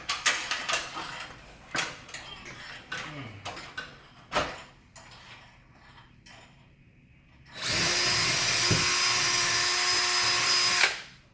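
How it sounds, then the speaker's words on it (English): A power drill whirs steadily for several seconds at close range, drilling holes into a ceiling, after a stretch of scattered knocks and handling clatter. "Otherwise I'm drilling a bunch of holes in my wife's ceiling"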